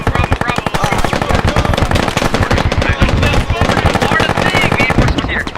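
Rapid bursts of gunfire crackle during a team push in a game, dense repeated shots rattling loud and close for the whole stretch, with shouted voices mixed underneath.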